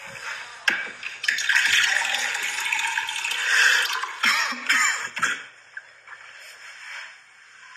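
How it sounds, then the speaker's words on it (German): Water pours in with a steady, close rushing splash that runs for about five seconds, then cuts off and leaves near-quiet. "der hat gerade Wasser reingemacht"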